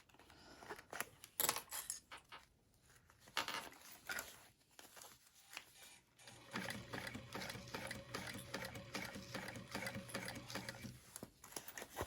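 A sewing machine stitches a backpack: scattered clicks and short mechanical bursts at first, then a steady, rapid, rattling run of stitching for several seconds before stopping, all fairly faint.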